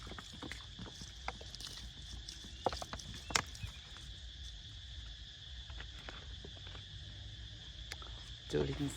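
Cicadas drone loudly in an evening garden after rain, a steady high buzz holding through the whole stretch, with scattered soft clicks and knocks nearby.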